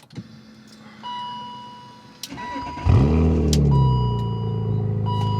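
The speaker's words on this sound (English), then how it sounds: "Let me go ahead and get the car cranked up" A warm BMW E39 engine cranks briefly and then catches, settling into a steady, rumbling idle close by after a few clicks and a short whine.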